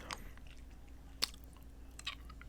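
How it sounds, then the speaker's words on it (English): Someone chews on a cough drop close to a microphone, a few soft wet crunches and clicks spaced irregularly over a faint steady hum, with no talk. "That's me chewing on a cough drop because I don't feel good."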